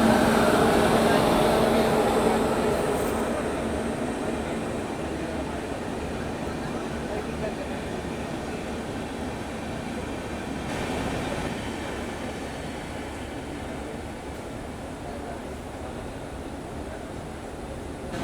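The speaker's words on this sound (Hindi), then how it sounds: "अमृत भारत को ओवरटेक मारने के लिए आ रही है 12403 प्रयागराज से लालगढ़ सुपरफास्ट एक्सप्रेस।" The 12403 Prayagraj–Lalgarh Superfast Express overtakes a halted Amrit Bharat Express, producing a long, steady rumble and clatter of passing coaches that fades slightly over nearly twenty seconds.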